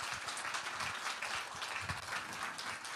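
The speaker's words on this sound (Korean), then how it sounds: "환영의 박수로 맞이해 주십시오." Congregation applause welcoming a guest pastor at a Sunday church service, a soft, fairly distant patter of clapping that holds steady for a few seconds.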